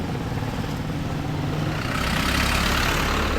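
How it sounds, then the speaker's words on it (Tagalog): Engines idle and rumble in congested street traffic in the town of Arayat, Philippines, a steady low drone of cars and trucks that swells slightly louder in the second half. "Sobrang traffic na sa bayan ng Arayat."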